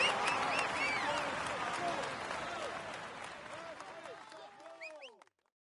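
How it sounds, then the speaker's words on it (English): A crowd applauds at a Tour de France stage ceremony honoring the polka dot jersey winner, with dense sustained clapping that slowly thins out and stops abruptly, while voices carry over the applause. "let's applaud him once more"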